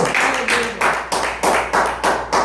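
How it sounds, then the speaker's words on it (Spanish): Rhythmic clapping in unison from a church congregation, a steady beat of about three claps per second, loud and close, with no other sound. "Denle un aplauso con todo su corazón al mundo."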